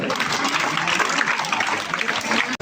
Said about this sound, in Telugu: ప్రతి ఒక్కరికి మోగాలి చప్పట్లు